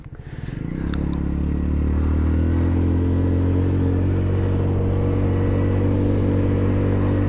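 A Royal Alloy GT125 retro scooter pulls away on a car park for a brake test. Its single-cylinder engine builds quickly from a rough start to a loud, steady droning hum that holds to the end.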